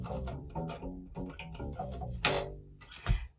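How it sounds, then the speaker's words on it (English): An electric bass guitar played unplugged with no amp, giving thin, quiet plucked and strummed notes in a quick rhythmic run, with a couple of brighter string slaps near the end. "Without an amp, this is what it'll sound like unplugged."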